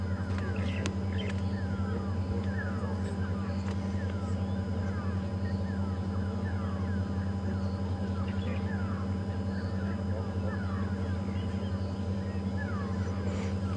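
A dawn chorus of Swainson's francolins, go-away birds and starlings calling and chirping at a distance on a safari drive at Djuma Game Reserve, over a constant low engine hum.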